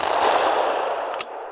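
A shotgun fires at a shooting school, a single loud burst of blast and rumble that fills the moment, followed by a short sharp metallic clink as it fades.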